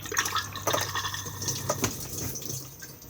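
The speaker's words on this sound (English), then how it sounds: "Blue button to flush." A Thetford cassette toilet flushing inside a Benimar Mileo 286 motorhome, water rushing and trickling into the bowl close by for about three seconds, with no talking.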